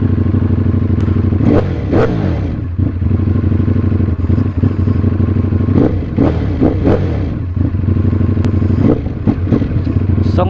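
A Ducati Panigale V4S with a 1,103cc engine rumbles close by through continuous loud running, with recurring throttle blips and revs rising and falling over the steady engine note.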